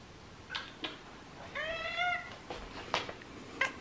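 A cat meows in a drawn-out, wavering call at mid-distance, with a few soft clicks and small handling noises before and after it in an otherwise quiet indoor room.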